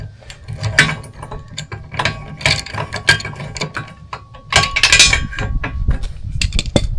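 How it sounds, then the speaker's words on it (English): A wrench turns a nut bit by bit while a Wilco Offroad Hitchswing is installed on a 2025 Pleasure-Way Ontour 2.2, producing loud, close bursts of ratchet clicking with clinks and irregular pauses. "I'm just turning the nut a little bit at a time here."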